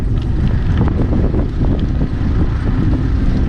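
Strong wind in the Lower Florida Keys near a boat ramp buffets the microphone with a loud, constant rumbling roar and gusty flutter, with no talking.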